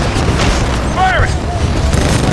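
Heavy Titan weapon fire in Titanfall 2: a booming shot over a constant low rumble, then a short rising mechanical whine and later a sharp blast, with voice callouts mixed in.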